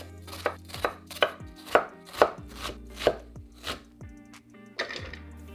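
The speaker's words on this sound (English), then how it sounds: "I'm dicing half an onion" Knife dicing half an onion on a cutting board: about eleven crisp, evenly spaced chops, close and fairly loud, with a low steady hum beneath and no talking.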